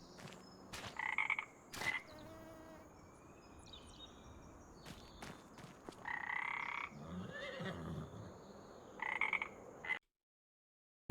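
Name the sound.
frogs croaking in video game Farm Restorer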